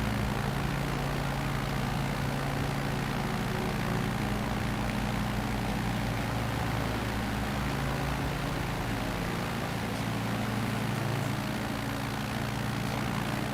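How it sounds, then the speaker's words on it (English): A propeller plane engine drones in a bush flying video game, a loud, constant mechanical hum that fills the whole stretch without change or voices. "Oh, there's the plane."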